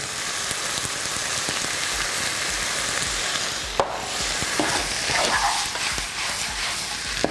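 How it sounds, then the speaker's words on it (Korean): Webfoot octopus stir-fried with soy sauce, sugar and garlic in a pan: a loud, dense, steady sizzle with occasional scraping stirs and a few clinks, close up, no voices. "넣고 볶아주시면 됩니다"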